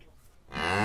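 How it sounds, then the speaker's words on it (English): A cow lets out a low moo that swells up in the second half, strong and sustained with a rich harmonic tone, preceded by a quiet pause. "C for Cow."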